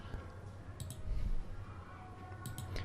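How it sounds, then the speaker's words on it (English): Mouse double-clicks to open and extract a zip file on a Windows computer, small sharp clicks in a pair over steady low room hum, fairly close. "Just unzip it by double left clicking and extract the file."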